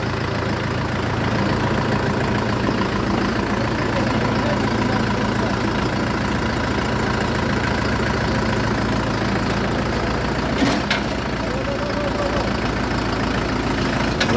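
The 50-horsepower KM495 diesel engine of an Orion JD504R tractor idles steadily and loudly nearby, a constant low rumbling chug throughout with a brief clink partway through.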